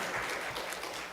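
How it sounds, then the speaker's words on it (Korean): Brief, soft burst of clapping from a church congregation during a Sunday worship service, a steady hiss of many hands at a distance. "여러분을 위해서 제가 박수 드리겠습니다"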